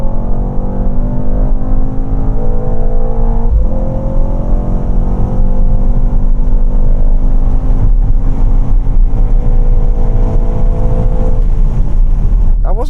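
A Mercedes car launches hard on a drag strip with a loud, sustained engine roar whose pitch climbs steadily through the gears, dominating the scene close to the microphone.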